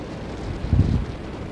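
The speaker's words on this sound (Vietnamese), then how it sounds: "Những con sóng đập lên cái bờ ghe rất là dữ luôn các bạn" Strong wind buffets a wooden fishing boat at sea off Khánh Hòa, with a steady low roar and one heavy wave thump swelling midway before easing back into the gusty rush.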